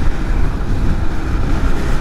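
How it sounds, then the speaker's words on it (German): Strong wind roars and buffets across the microphone while riding a Vespa scooter along the Moselle, a constant low rumble, steady and loud with no voices. "Aber es ist immer so windig hier an der Mosel."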